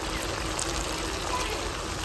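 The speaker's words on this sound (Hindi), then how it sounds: "पानी ऐड कर रही हूँ" Water pours steadily into a pan of spiced okra curry, a close, continuous splashing trickle that lasts the whole moment without breaks.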